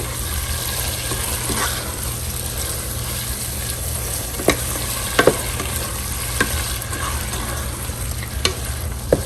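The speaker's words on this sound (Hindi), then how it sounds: "दही जब आप डालें तो अच्छे से उसको मिक्स करें।" Yogurt is stirred into okra frying in a pan, giving a loud, steady sizzle with occasional sharp clicks and scrapes from the spoon, close up and with no talking.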